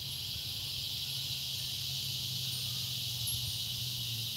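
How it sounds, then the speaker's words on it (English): Tree frogs call at dusk outside a patio, a steady high-pitched chorus of trilling that stays constant and moderately distant, with a low hum beneath and no talking. "Listen to the tree frogs."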